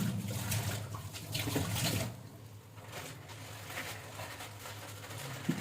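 Water pouring into a pressure cooker holding rice for biryani, a soft, rushing stream for the first two seconds, then quieter trickling and faint kitchen noise.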